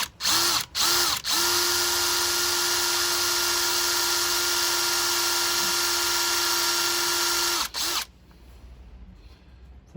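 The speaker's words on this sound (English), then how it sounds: "I'm going to drill a slightly smaller hole" A power drill bores a slightly smaller hole, starting with a few quick trigger blips and then holding a loud, steady high whine for several seconds before stopping abruptly, leaving quiet room noise.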